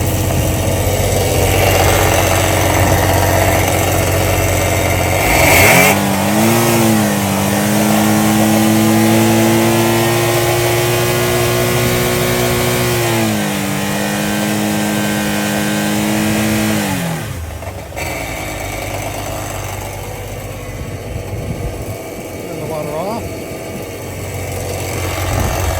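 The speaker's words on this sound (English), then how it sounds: "Then I'm going to start the engine" Loud, close Sea-Doo personal watercraft engine running steadily during flushing with a brief rev near the start, a long steady drone, then the engine cuts off leaving quieter background.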